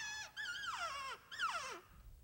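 Human mimic of elk mewing at the World Championship Elk Calling Contest in Fort Worth, Texas: two long, high, wavering nasal whines with bends and falling tails, separated by a short break and heard clearly with no talk.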